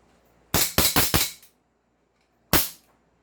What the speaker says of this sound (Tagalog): firing po tayo. Firing!